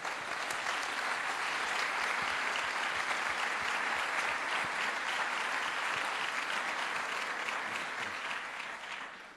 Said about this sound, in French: Et vous avez raison d'applaudir Julia